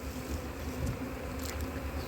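Honeybees buzzing around a hive during early-season colony checks, a dense steady hum heard close up with no talking.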